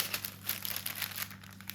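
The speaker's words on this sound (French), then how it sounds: "on la pose sur une feuille de papier sulfurisé et on recouvre avec une autre feuille de papier sulfurisé" Sheets of parchment paper crinkle as they are laid over pastry dough for a raspberry almond tart, a quiet, rapid rustling and crackling close up, continuous for a couple of seconds.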